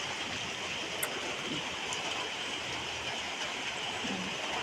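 Heavy rain pours down during a flood inside a house, a steady, dense rushing wash that holds constant and fairly loud throughout.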